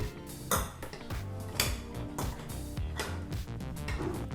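Metal clanks and scrapes up close as a pressure cooker lid is twisted and lifted off, with pots knocking together.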